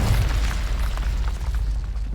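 Confringo spell explosion in Hogwarts Legacy, a loud rumbling boom with a heavy low-end roar that holds steady for about two seconds before slowly tapering.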